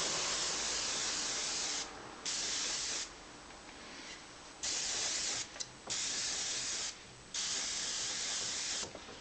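An airbrush sprays paint for a final basecoat over a detailed miniature, giving a steady close hiss in bursts of a second or two with short quiet gaps between.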